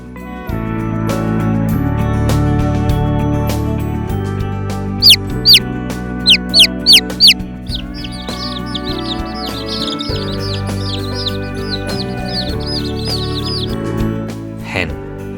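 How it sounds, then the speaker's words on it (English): Chick chirping on a farm, a series of high, quick peeping calls in bursts over steady background music, some notes sharp and close, fading in and out across the middle of the clip. "chick."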